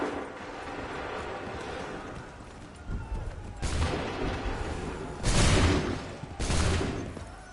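Musket volleys in Assassin's Creed 3 fire on command, with several loud crashing bursts at about 3.6, 5.3 and 6.5 seconds. Each roars out over a steady background din of battle.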